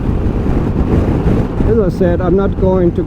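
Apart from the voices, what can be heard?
wind blowing while riding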